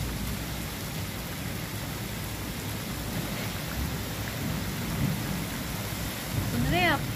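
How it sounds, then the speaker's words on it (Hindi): Heavy rain pours down in a dense, continuous hiss, steady and close throughout, with a faint high chirp near the end. "सुन रहे हैं आप बारिश की आवाज़, फुल बारिश स्पीडली हो रही है"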